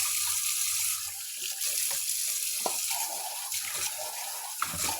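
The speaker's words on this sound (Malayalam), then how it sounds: "സിങ്കിനകത്ത് മൊത്തം തെറിച്ച് വെള്ളം." Tap water splashing steadily into a kitchen sink, a soft, close hiss with occasional louder splashes.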